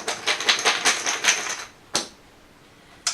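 Plastic chips shuffled in a cloth bag during a Puzzle Strike board game, a rapid run of dry clicking rattles for about a second and a half, then two short isolated rustles, close and alone.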